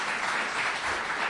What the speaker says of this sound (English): We'll give him one more clap